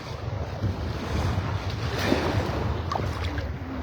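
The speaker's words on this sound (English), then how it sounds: "Let's get it out here past where the little waves are breaking." Small ocean waves breaking on the beach at Delnor-Wiggins in North Naples, Florida, a continuous rushing wash of surf mixed with wind buffeting the microphone, steady and fairly loud with no talking.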